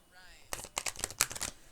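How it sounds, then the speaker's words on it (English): Tarot cards being shuffled, a quick series of soft riffling flutters and light slaps, close and fairly quiet. "let's get a good shuffle going"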